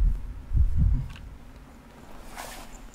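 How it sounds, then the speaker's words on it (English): A heartbeat in the horror video game Layers of Fear gives two low, muffled thumps close together near the start, then fades into a dim, droning hum. "I hear a heartbeat."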